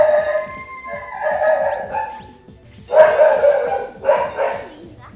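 A female dog barks in a series of loud, close barks and yelps, with a few howling, whining notes between the bursts and faint voices underneath.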